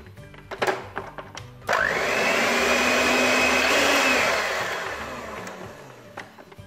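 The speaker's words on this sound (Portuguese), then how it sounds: "Vamos bater de novo até estarem todos os ingredientes bem misturados." An electric mixer beats yogurt tart batter after flour is added, a loud steady whirring drone that starts abruptly, holds for a few seconds, then winds down, with kitchen clatter before and after.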